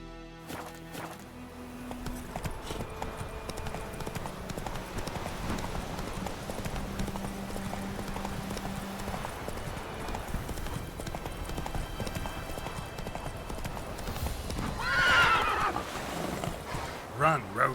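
Roach the horse gallops in The Witcher 3, with rhythmic hoof clip-clops, a whinny, and music and voices over them, swelling louder near the end.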